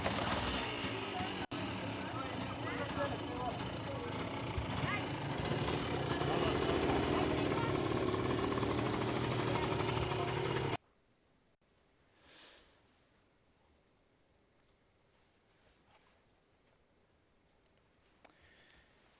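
A motorcycle engine idles steadily as the bike stops in Timbuktu, a low rumbling hum at moderate level for about ten seconds, followed by near silence.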